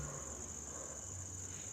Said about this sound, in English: the sounds of crickets or whatever that is